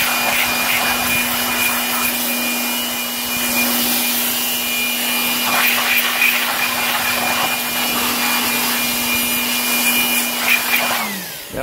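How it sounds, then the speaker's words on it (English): A car air dryer blows water off a coated wheel with a loud, steady whining roar and a high tonal hum, holding constant before winding down right at the end. "So that's the difference in drying something with an air dryer, coated, non-coated."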